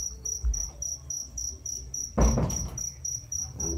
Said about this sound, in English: Them crickets are going mental, aren't they, on balcony?